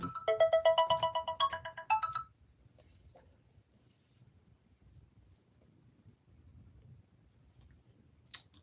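A phone ringtone plays a melodic electronic tune for about two seconds near the start, loud and close, then cuts off, leaving a quiet room with faint background noise and a brief click near the end.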